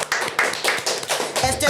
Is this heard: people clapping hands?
yes